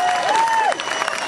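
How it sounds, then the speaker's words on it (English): A crowd claps for the state auditor at a Mitt Romney campaign event in St. Louis. The applause is brief and steady, with some cheering and a tone sliding through it. "Our state auditor, Tom, let's give him a round of applause."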